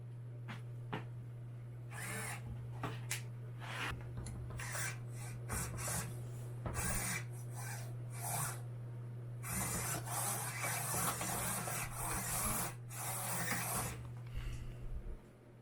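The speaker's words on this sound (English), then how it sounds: "the part I hate the most about making any costume, the sanding" Sanding a costume part for a FNAF Chica build, a rough abrasive rasping in uneven bursts over a steady low electrical hum, fairly quiet and close, with no talk.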